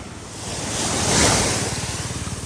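Big ocean waves roll onto a quiet beach on the west coast of Aceh, a loud rushing surf that swells and fades over a few seconds with wind buffeting the microphone, no voices.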